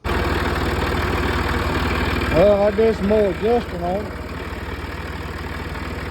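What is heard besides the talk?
tractor engine running while plowing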